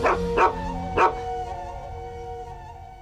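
A dog in a scene from an Indian drama series gives three quick, loud barks close together, then trails into a long, fading whine-like howl.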